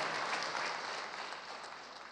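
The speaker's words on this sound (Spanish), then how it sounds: "dámosle un aplauso a Cilita" A crowd applauds for Cilita, a teacher, at a government event marking the start of the school year; the dense, fairly quiet clapping holds steady, then eases slightly toward the end, with no voices.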